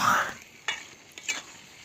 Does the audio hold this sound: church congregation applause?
no